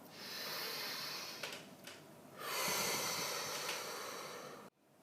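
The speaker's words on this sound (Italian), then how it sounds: "facciamo un bel respiro profondo" A slow, deep breath in through the nose, followed after a short pause by a long, audible exhale, close and breathy, with no talking over it.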